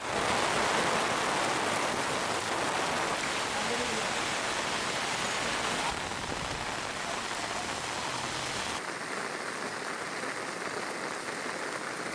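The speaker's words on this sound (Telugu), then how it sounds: "అమీర్పేట, ఎస్ఆర్ నగర్, ఎర్రగడ్డ, సనత్ నగర్ ప్రాంతాల్లో మధ్యాహ్నం నుంచి వర్షం పడింది." Heavy rain pouring onto a city road in Hyderabad, a dense and unbroken hiss of downpour that stays loud and steady throughout.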